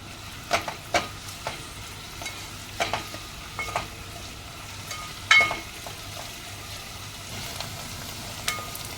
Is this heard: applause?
no